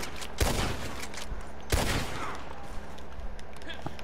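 Gunfire in a video game: two sharp, loud shots about a second and a half apart over a steady background hum, followed by quieter ambient game noise.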